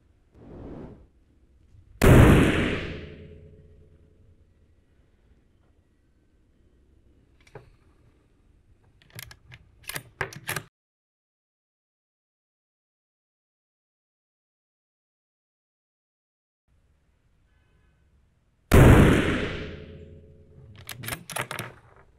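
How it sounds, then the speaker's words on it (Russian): Rifle fire while zeroing a scope on a carbine: two sharp, loud gunshots far apart, each with a short decaying tail, followed by small mechanical clicks and rattles in between. "Делаем 3 выстрела."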